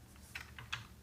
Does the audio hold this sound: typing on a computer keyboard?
yes